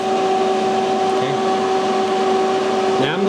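A vacuum pump evacuates the AC system of a 2004 Ford Crown Victoria, running as a loud, steady mechanical drone with a constant tonal hum, close and unbroken, with a brief clunk near the end.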